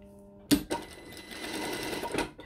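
A sewing machine starts with a sharp clack and then runs in a short, rapid whirring burst for under two seconds, stitching along a traced line while making a fabric hair bow tie.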